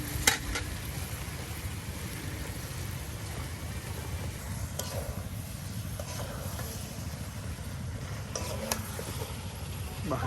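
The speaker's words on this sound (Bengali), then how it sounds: "এই দেখুন আপনার পাতাগুলো এখন মশলার সাথে সুন্দর করে একদম উলট পালট করে নেওয়া হচ্ছে।" Tender cabbage leaves are tossed with spices in a hot pan in a village kitchen, giving a steady frying sizzle with occasional scraping stirs throughout.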